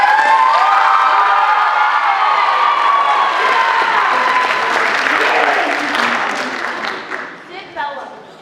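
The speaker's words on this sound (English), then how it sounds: "So give him a round of applause." An audience claps and cheers loudly at a school performance event, with whoops and shouting children, a dense sustained ovation that thins out toward the end as a voice speaks over it.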